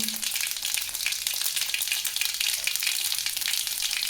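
Mustard seeds pop and sizzle in hot tempering oil for a tamarind-based pulusu, giving a steady, close, bright crackle with no voices.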